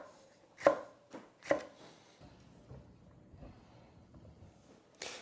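A knife chops jalapenos on a cutting board, giving a few sharp, separate thumps spaced about a second apart, quiet and close in an otherwise still kitchen.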